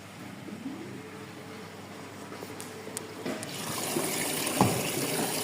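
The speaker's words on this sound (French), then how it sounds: "L'eau est très chaude par contre." Hot water running from a tap at a laundromat, a steady watery hiss that grows louder and fuller toward the end, with a brief clunk near the finish and no talking.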